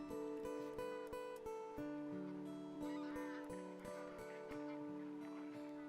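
Bar-headed and greylag geese honk repeatedly in a feeding flock at a wetland, a dense overlapping chorus of nasal calls, fairly faint and distant and continuing throughout.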